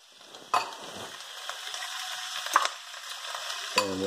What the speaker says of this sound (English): And we'll just mix those up a little bit.